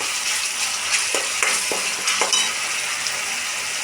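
Chopped onions fry with a close, steady sizzle, punctuated by several sharp spatula scrapes and stirring knocks.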